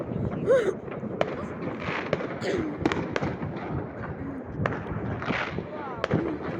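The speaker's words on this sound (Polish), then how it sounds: "Ty chciałeś fajerwerki puszczać." New Year's Eve fireworks crack and pop repeatedly at a distance, scattered bangs over a busy background, with people talking and whistling rockets faintly audible.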